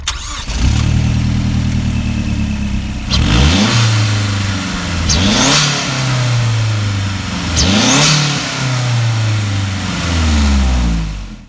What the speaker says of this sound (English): show you this turbocharged 4-cylinder putting out over 263 horsepower